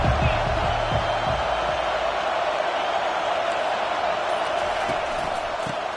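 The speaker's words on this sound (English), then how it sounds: "This crowd trying to show them what it's going to be like all day in this house." A packed Michigan college football stadium crowd cheers in a steady, loud, continuous roar that fills the whole stretch and fades slightly at the end.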